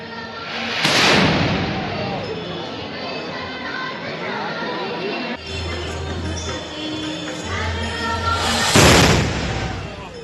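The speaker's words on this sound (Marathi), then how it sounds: "प्रथा परंपरेनुसार अंबाबाई मंदिरात तोफेची सलामी देण्यात आली आहे" A ceremonial cannon salute at the Ambabai temple during Navratri gives two loud, sharp booms, one early and one late, with crowd noise and talk in between.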